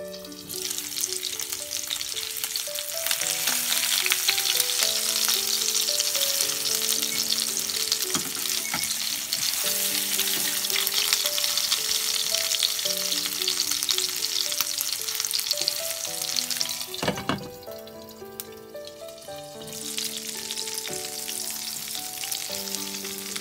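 A Japanese hamburg steak fries in a covered pan with a steady, close sizzle that continues throughout, under louder background music.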